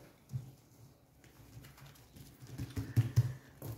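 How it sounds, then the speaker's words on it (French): Pet pigeons or doves coo softly in a room, a few low, muffled calls clustering near the end over faint background noise. "Vous pariez que mes oiseaux ne vont pas arrêter"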